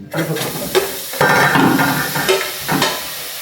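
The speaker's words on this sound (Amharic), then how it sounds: "የጋለ ድስት ላይ ሽንኩርት ሲጨመር" Onions hit a hot pot and sizzle loudly, a sustained frying hiss broken by a few stirring scrapes during a two-versus-two cooking contest.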